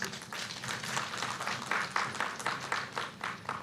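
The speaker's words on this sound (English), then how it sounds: "I would also request to please give him a huge round of applause." A conference audience in an auditorium claps after a keynote address, a moderate, fairly distant round of applause with uneven rhythmic pulses.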